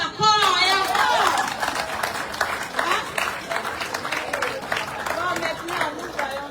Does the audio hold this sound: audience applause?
yes